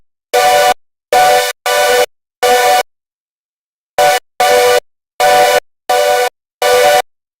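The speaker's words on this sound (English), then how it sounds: "where's all that distortion coming from?" Harsh, heavily distorted synthesizer tones play in nine loud, buzzy bursts, four in a row, then a short gap and five more, with no talking.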